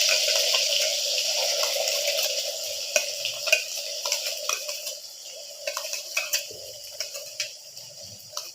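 Ground masala sizzles and fries in a few spoons of hot oil in a kadhai while being stirred, a steady close hiss with scraping clicks and spatters through the second half.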